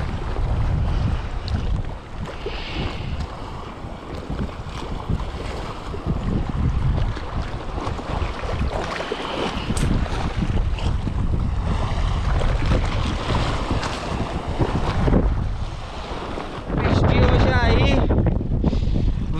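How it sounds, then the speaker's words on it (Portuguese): Strong, gusty wind roars steadily over a fishing boat at sea during a storm, with broadband buffeting across the whole stretch and a harder blast near the end; no one speaks. "O vento tá muito duro hoje"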